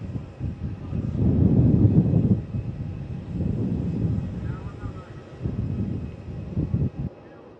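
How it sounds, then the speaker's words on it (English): A Malaysia Airlines Airbus A330 departs Melbourne Airport, a broad low jet roar swelling and fading in waves across the clip, with voices talking over it. "we just got that Malaysian 330 first"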